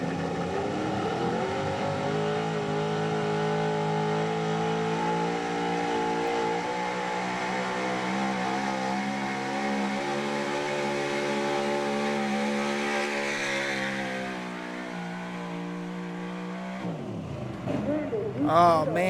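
A pulling truck's engine roars at a sustained high pitch during a run at a truck and tractor pull, holding loud and steady before dropping off near the end, with an announcer talking over it.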